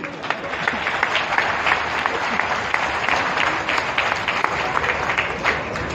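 A crowd at a Delhi DTC bus flag-off event claps continuously and fairly loudly, a dense, even wash of applause from many hands with no gaps.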